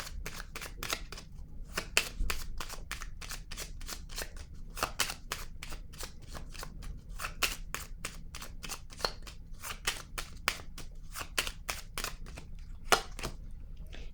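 Tarot-style cards are shuffled and handled in quick repeated flicks and snaps. The crisp, close clicks come in uneven bursts over a quiet background.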